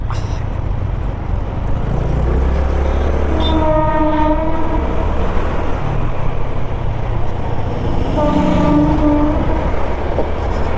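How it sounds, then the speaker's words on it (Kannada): A train rumbles past loudly with a constant heavy roar, sounding two long horn blasts several seconds apart. "ನೋಡಿ ರೈಲ್ವೆ ಹೋಗ್ತಾ"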